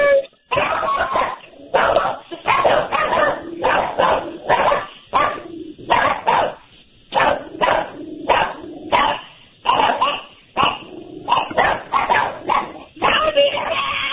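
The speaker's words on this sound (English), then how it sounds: "I think that's a bark." Repeated dog barks and yips in uneven bursts, close and loud, with whimpering between them, heard through a narrow, phone-like call-in line on a radio show.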